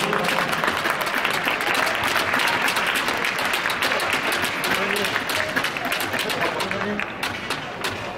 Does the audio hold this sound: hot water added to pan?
no